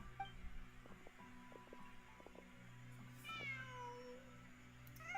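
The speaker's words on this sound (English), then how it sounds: "Just a cat." A cat in the Genshin Impact video game lets out a meow over a quiet game backdrop of soft tones and faint clinks, with no one speaking.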